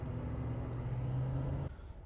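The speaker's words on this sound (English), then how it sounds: "driving this truck is pretty nice" A 2019 Chevy Silverado 2500 HD Duramax diesel pickup drives at low speed through a parking lot, its steady low engine drone close and continuous before dropping away abruptly near the end.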